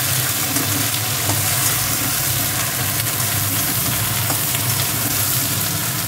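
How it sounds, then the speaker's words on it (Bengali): A paste of ground cumin and dried chillies frying in oil in a pan, giving a loud, dense, continuous sizzle with a low steady hum underneath. "এইবার দেবে মশলাটা, এর মধ্যে জিরে আর শুকনো লঙ্কা বাটাটা। একটু হালকা কষিয়ে নেবে।"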